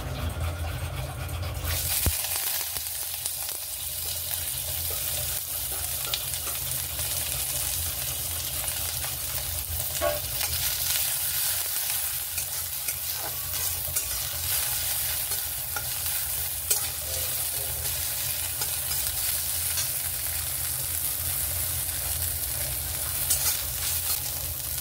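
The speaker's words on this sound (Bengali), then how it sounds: "সর্ষেগুলো বেশ একটু ফুটে গেলেই পেঁয়াজটা দিয়ে দেব।" Onion and mustard seeds sizzle and fry in oil in a wok while being stirred, a loud, continuous crackling hiss with scraping and clinking throughout, with no talk over it.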